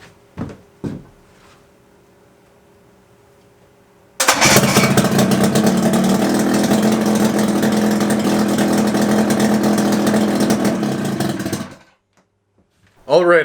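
A Johnson 35hp outboard motor that sat for fifteen years fires up indoors and runs with a loud, rough, steady drone for several seconds before shutting off, with a few brief sounds before and after.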